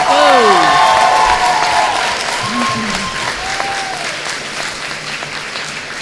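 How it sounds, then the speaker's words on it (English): A large crowd at a 2019 Mashpee school graduation ceremony cheers and applauds loudly, with whoops and shouts riding over dense clapping that fades slightly toward the end. "Please give them a loud cheer and a strong round of applause"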